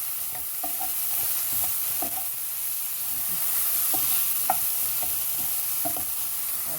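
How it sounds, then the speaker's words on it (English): Ingredients with scotch bonnet pepper are stirred in a pot for Bajan cou cou, a steady close sizzle punctuated by repeated soft scraping and clinking strokes of the spoon. "I'm going to stir that. Look at the colour. Keep stirring."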